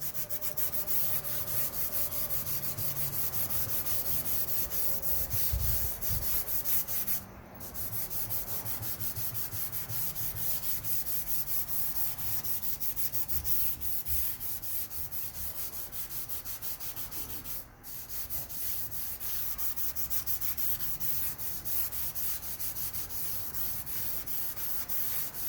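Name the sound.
aggressively scrubbing surface rust off a lathe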